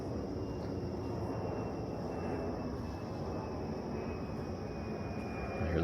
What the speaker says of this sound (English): I hear the planes.